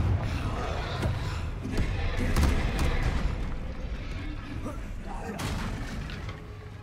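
Confringo spell explosions in the Hogwarts Legacy video game burst in a dense run of booming blasts and crackling impacts, loud and busy throughout, with someone talking over the game sounds.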